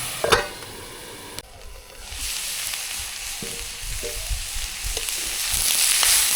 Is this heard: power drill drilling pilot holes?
no